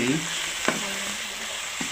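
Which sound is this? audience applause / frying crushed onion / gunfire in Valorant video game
frying crushed onion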